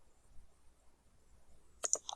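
A few quick computer mouse clicks land close together near the end, crisp and close against a near-silent background while working in 3ds Max 2020.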